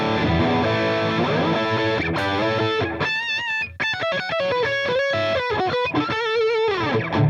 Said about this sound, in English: this is based on a Marshall JCM 800 with some kind of mod to it to make it more gainy